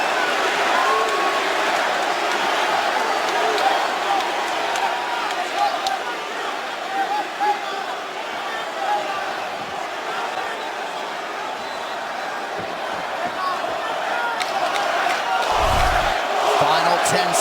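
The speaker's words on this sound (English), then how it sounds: "Now the crowd get behind Masvidal." A UFC arena crowd roars and cheers continuously through the late moments of a Diaz versus Masvidal fight, a dense sustained wall of voices that swells near the end, with an announcer talking over it.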